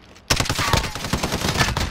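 Video-game gunfight gunfire that erupts suddenly after a brief quiet moment, then keeps up as rapid, loud, overlapping bursts of shots.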